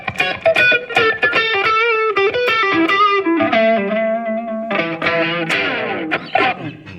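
A JBL BandBox running its Crossroads guitar preset, a bluesy tone with slight gritty drive, plays a loud, close run of distorted electric guitar notes and bends with no talking.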